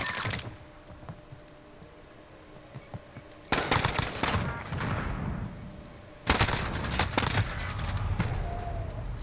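Gunfire from the shooter game Modern Warfare with a semi-auto AN-94 rifle in play: loud dense volleys erupt in two sharp bursts after a quieter stretch of scattered shots, with a voice briefly speaking.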